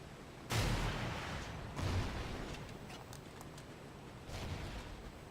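Explosions from a missile launcher in Call of Duty: Ghosts, three heavy broadband booms a second or more apart, each with a low thump and long rumbling tail, at moderate loudness with no talk.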